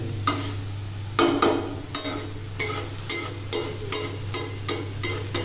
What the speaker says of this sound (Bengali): ভাত গোলা উঠিয়ে নেব একদম শুকনো শুকনো করে ভেজে নেব